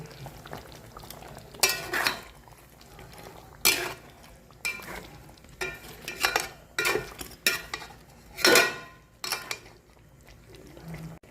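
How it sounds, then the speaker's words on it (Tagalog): Fried carrots and potatoes tipped into a pan of chicken afritada sauce, giving several separate clattering, splashing bursts with metal utensil scrapes against the pot over a low bubbling simmer. "Lagay na po natin yung ating piniritong carrots at saka patatas guys."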